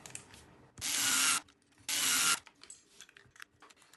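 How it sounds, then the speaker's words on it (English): Screws being driven to fasten the front upper arms on a Team Associated RC8B4.1 model car, heard as two loud, sustained rasping bursts of roughly half a second each, close up, with quiet handling noises between. "And screwing them down."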